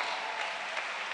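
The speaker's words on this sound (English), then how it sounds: "Clap your hands to Jesus." A church congregation claps hands together, a brief, dense and even burst of applause with no voice heard over it.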